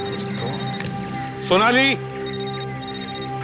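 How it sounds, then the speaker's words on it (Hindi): A mobile phone rings nearby in a scene from the Indian crime drama C.I.D., a repeating electronic ringtone pattern heard under and between a man calling out a name, with one louder warbling burst midway. "मोबाइल फोन भी वहीं से बज रहा है।"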